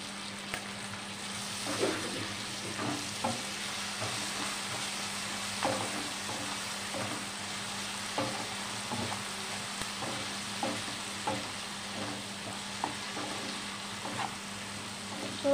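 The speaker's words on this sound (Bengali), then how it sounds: "এবার আমি সর্ষে আর কাঁচা লঙ্কা বাটাটা 1 চামচ দিয়ে দেব।" Mustard and green chili paste frying in hot oil for a prawn dish, a steady broadband sizzle with repeated soft stirring scrapes and small pops, close and even, with no talking.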